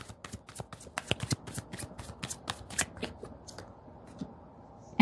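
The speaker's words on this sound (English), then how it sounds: "I just shuffled through the deck." A deck of tarot cards is shuffled by hand in a quiet room, giving a run of crisp, close riffling slaps and flicks that thin out toward the end, with no talk.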